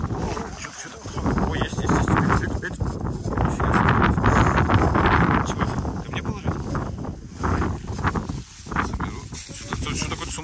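Strong, cold wind buffets the microphone on the shore of the White Sea during a smelt fishing trip, a loud, uneven roar of gusts that rises and falls throughout, with people talking over it.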